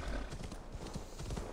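Horse hooves in Assassin's Creed Valhalla, a quick, close, rhythmic clip-clop of a galloping horse over a dense outdoor game soundscape, with no speech.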